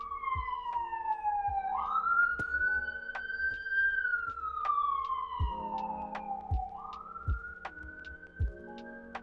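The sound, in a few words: police siren in New York City street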